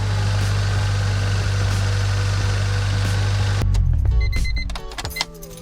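A Honda car engine idles with a loud, steady rumble and a bad lifter tick, running evenly for several seconds before cutting off and giving way to faint clicks and a lighter hum.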